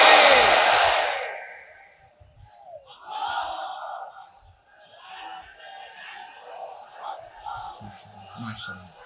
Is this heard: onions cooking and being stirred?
no